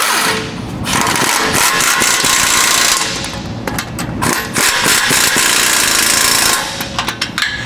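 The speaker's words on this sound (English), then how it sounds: "we're going to go ahead and tighten all the bolts up" A power impact tool driving bumper bolts with an 11/16 socket on a Jeep JK Wrangler front bumper install, loud close rattling hammering bursts separated by short pauses.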